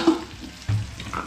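Greens such as spinach and red amaranth frying in a pan give a brief close sizzle with a soft stirring scrape partway through.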